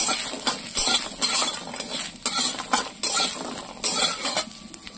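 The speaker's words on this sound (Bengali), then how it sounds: "এবার আমি ভালো বড়াটা ভেজে নেব" Lentil fritters (dal bora) fry in hot oil in a pan, giving a loud, continuous sizzle broken by repeated scraping and clinking of a utensil stirring them. No voices.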